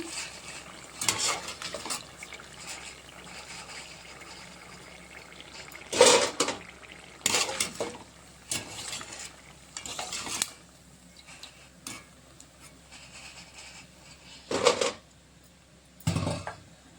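Chakodilu snacks slowly frying in a pan, with intermittent metallic scrapes and clinks of a stirring utensil against the pan at irregular intervals over a steady low background of oil sizzle.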